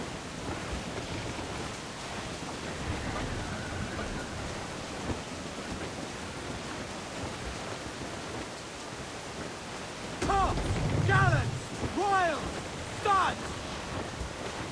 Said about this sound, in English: Sudden gust of wind.